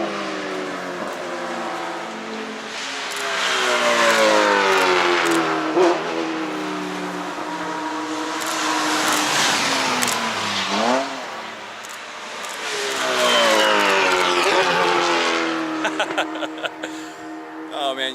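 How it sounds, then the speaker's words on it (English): A Palatov race car screams past on the Portland International Raceway circuit, its high, buzzing engine rising and falling in loud sweeping passes that swell, fade and return, with brief crackles near the end. "you can always tell when the Palatov's coming. That thing sounds like a swarm of angry bees."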